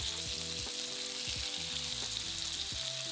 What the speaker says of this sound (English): place the chicken in the frying pan to fry in the leftover bacon fat